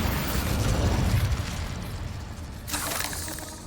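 In the Hogwarts Legacy video game an Incendio fire spell goes off, a burst of crackling, roaring flame that fades, followed by a sharp bright hiss of another effect near the end.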